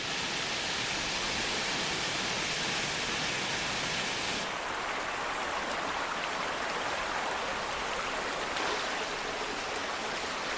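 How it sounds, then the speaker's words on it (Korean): The Biryong waterfall on Mount Paektu pours in deep winter with a steady, dense rushing roar that fills the whole stretch evenly, with no voices. "그러나 비룡폭포는 영하 50도의 날씨에도 물길을 멈추는 법이 없다"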